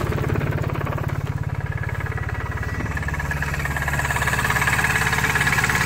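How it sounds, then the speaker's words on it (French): The Lombardini diesel engine of a 2015 Ligier JS50 DCI idles steadily nearby, its low, even chugging pulse continuing without a break. "Voici le moteur, voici le son du moteur de Lombardini."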